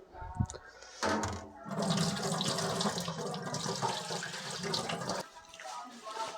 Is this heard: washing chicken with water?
yes